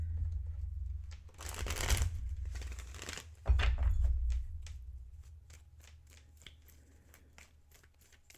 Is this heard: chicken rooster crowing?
no